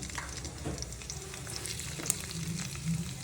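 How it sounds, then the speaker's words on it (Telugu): Garlic, green chillies and onions fry in hot oil for a chicken Manchurian, giving a steady, close crackling sizzle with occasional sharper pops throughout. "నేను ఇందులో కట్ సన్నగా కట్ చేసి పెట్టుకున్న గార్లిక్ వేసుకుంటున్నాను"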